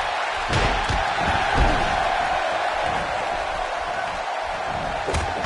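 A wrestling arena crowd keeps up a dense, continuous roar of cheering and whooping, with a couple of sharp slams breaking through the steady wash of noise.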